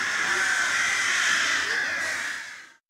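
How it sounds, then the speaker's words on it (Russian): Crows caw loudly and continuously for a few seconds, several harsh calls overlapping near at hand before cutting off abruptly. "да такой, что вороны переполошились"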